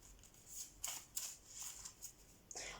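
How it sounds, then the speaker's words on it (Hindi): Tarot cards being shuffled, a few soft riffling bursts and flicks, close but faint over quiet background hiss. "ओके, मैं एक और बार शफल करूँगी"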